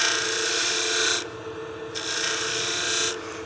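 A spindle gouge squares off the end of a wooden tenon on a spinning lathe, a steady close rasping cut that stops briefly, resumes, then cuts off again near the end, no talk.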